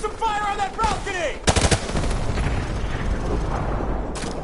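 Gunfire in a PS4 military shooter, heavy bursts of rapid shots and booms crowding the mix, with a shouting voice over the opening second.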